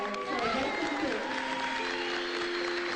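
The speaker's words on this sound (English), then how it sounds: "we'd like lots of noise and cheering for our past student, Chrissy Sandow" A crowd at a school event claps and cheers for a past student, dense applause rising quickly and holding steady with scattered whoops and shouts.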